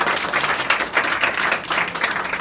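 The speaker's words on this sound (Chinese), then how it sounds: "掌声一下吧" An audience at a product demonstration of a detergent claps, a continuous close patter of many hands, steady and fairly loud over the whole stretch.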